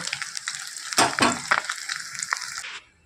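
Hot oil sizzles steadily as puti fish fritters fry, with a louder crackling burst and scraping stirs partway through, ending abruptly.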